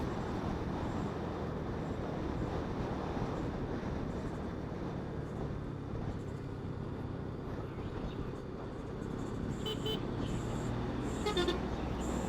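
Steady roar of heavy city traffic with car horns honking a few times near the end, toward the final seconds.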